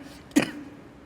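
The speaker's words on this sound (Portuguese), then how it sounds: "Me perdoa se eu tossi em algum momento" A single short cough from a preacher still recovering from illness during a sermon, one sharp burst standing alone over a quiet room hum.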